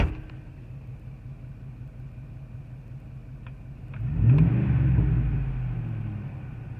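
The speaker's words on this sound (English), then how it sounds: "Give you a few revs of what it sounds like inside." Heard from inside the cab, a 2006 Ford F150 with a Black Widow exhaust idles with a low hum, then is revved into a deep, swelling rumble that fades back down. The sound is muffled and moderate, with no talking.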